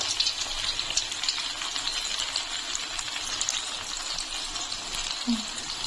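Amriti batter piped in rounds into hot oil, a steady, dense sizzle and bubbling of frying that holds evenly throughout, close and fairly loud, with no talking.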